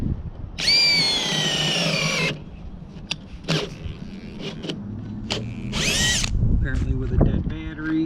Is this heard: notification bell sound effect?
no